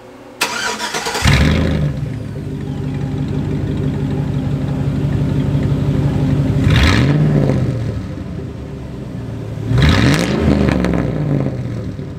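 A truck fitted with long-tube headers and a catless Y-pipe starts off from a stop, its engine rumbling loud and close, rising in pitch as it accelerates in three separate pulls with steady running in between.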